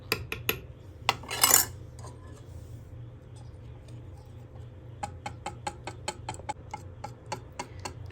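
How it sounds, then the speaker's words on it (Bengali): A hand whisk clicking against a bowl while beating batter for milk chitoi pitha, with a brief clattering burst early on, then a steady run of sharp, evenly spaced taps; no talking. "তো এখন আমি এটাকে একটু হুইক্স দিয়ে ঘুরিয়ে নেব।"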